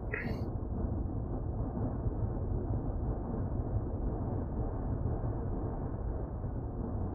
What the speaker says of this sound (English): All I can hear is the thunder roaring.